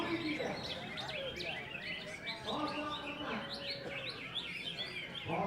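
A green leafbird (cucak ijo) sings a lively, varied run of chirps, whistles and trills, closely recorded and continuous, with quick repeated phrases throughout.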